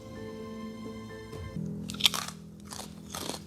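Crunchy food is bitten and chewed close up, a few sharp crackling crunches in quick bursts after a humming musical tone fades, with no talking over them.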